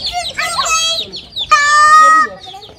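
Aseel chickens and chicks cluck and squawk in bursts close by, with a loud drawn-out call near the middle and faint background voices.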